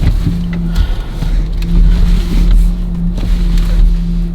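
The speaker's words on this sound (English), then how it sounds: "Car!" A car passes close by outdoors, a loud low rumble of engine and tire noise that swells and fades with some wind buffeting, no clear talk over it.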